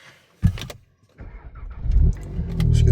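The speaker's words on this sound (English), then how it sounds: "Let's get the car warmed up and then head off to work." A car engine starts up and settles into a steady idle after a few knocks and clunks, a low rumble building and holding near the end, close by.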